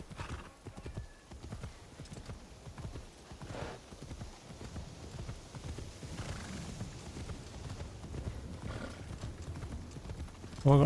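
Horse hooves clip-clopping in Assassin's Creed Shadows in snowy terrain, a steady rhythmic trot close by over a soft ambient bed, with a brief snort near the end.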